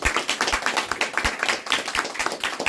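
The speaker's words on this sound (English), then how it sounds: "We'll give her a round of applause." A small audience at a spiritual talk claps in a steady round of applause, individual close hand claps clearly distinct within the brisk, even rhythm.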